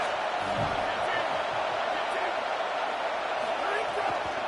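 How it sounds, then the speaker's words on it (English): A college football stadium crowd at an SEC game against Kentucky roars on a third-down defensive stand, a loud, dense, sustained wash of cheering throughout, with faint commentary beneath. "Decibels rising as the crowd gets behind this defense on 3rd down."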